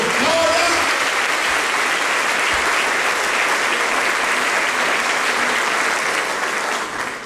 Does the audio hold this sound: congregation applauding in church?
yes